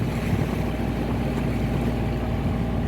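A sailboat motors under engine power off the Cornish coast toward Lizard Point, its inboard engine giving a steady low throbbing drone close up, mixed with water wash and no speech.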